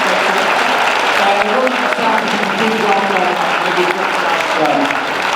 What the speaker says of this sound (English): let's give these guys a good round of applause